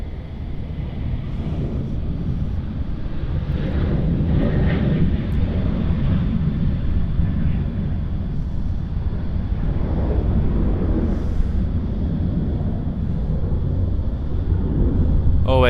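A narrow-body airliner on an international departure from Sydney Airport roars with a steady, loud, low engine rumble that holds for the whole stretch, with wind buffeting the microphone.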